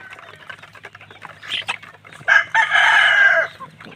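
Chickens and chicks in a bamboo coop after feeding, with scattered soft peeps and clucks building to a loud, sustained cackling call near the end, close by.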